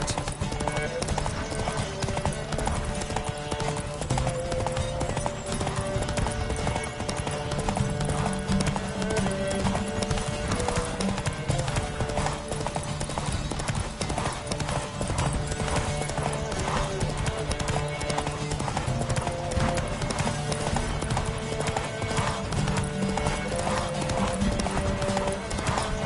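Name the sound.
horse galloping hooves in The Witcher 3 video game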